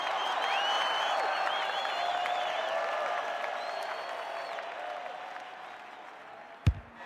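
A football crowd at a night match roars and claps after a goal, a broad sustained wash of cheering that slowly fades, with a sharp thump near the end.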